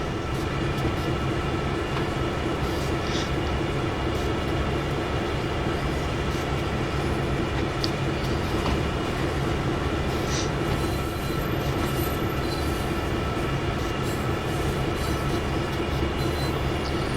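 A freight train rolls steadily along the track in Train Sim World 2, heard from the back of the last boxcar, with a constant heavy rumble and occasional faint clicks and squeals, with no talking.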